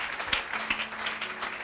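A church congregation applauds and cheers for Jesus during a French-language service, a brief burst of dense, steady clapping heard close and fairly loud.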